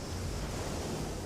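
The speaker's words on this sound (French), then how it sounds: "On peut entendre l'eau qui se fracasse sur le pont." Seawater crashes and rushes steadily over the deck of a racing sailboat in the Vendée Globe, a loud, continuous roar of spray and wind with no voices.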